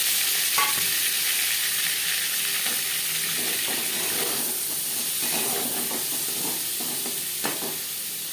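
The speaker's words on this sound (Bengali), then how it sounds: "পনির আমি হালকা করে ভেজে নেব।" Paneer fries in oil in a wok, giving a steady, loud sizzle and hiss with scattered pops and occasional stirring scrapes throughout.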